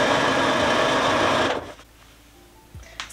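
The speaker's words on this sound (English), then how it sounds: "I'm going to use my sewing machine to sew a top stitch at the top and bottom of that waistband" A sewing machine runs in a fast, steady whir while top-stitching the waistband of patchwork trousers, then stops abruptly, leaving faint handling clicks.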